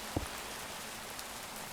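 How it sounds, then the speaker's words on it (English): Steady rain falls in a Minecraft forest, a continuous soft hiss of drops with a brief thump near the start, even and unbroken throughout. "I do kind of like the atmosphere the rain gives, though."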